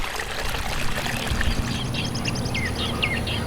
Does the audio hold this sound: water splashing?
yes